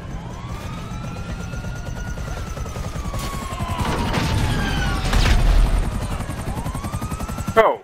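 A helicopter in GTA Online keeps up a steady rotor drone and mechanical whine, swelling as it climbs, with sirens and gunfire-like bursts in the background.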